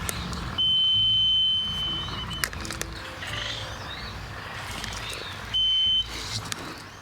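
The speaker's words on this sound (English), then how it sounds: "This thing here just measures moisture. When it hits water, it beeps." A groundwater moisture probe lowered into a well on a reef island sounds two steady, high-pitched electronic beeps, each about a second long, over background noise from outdoors with faint chirps.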